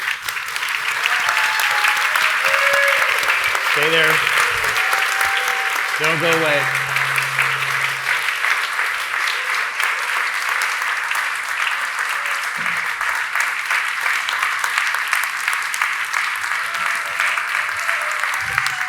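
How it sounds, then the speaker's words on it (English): An audience at a gala applauds its panelists in a steady, continuous wash of clapping that lasts the whole stretch, while someone speaks briefly over it near the start. "we owe our panelists some applause,"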